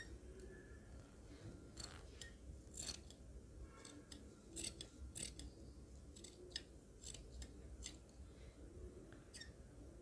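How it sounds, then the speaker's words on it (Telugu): Scissors snip through excess fabric while a baby's ghagra is being cut, giving a series of sharp, close clicks and crisp cuts at an irregular pace over a low background hum. "ఈ ఎక్సెస్ని కట్ చేసేసుకుంటున్నాను"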